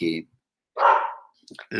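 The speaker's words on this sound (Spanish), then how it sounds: "aquí tengo un vecino que tiene una perrita que es muy ruidosa" A neighbour's small, noisy female dog barks in short sharp yaps, one clear bark then a couple of quicker ones, moderately close and alone between pauses.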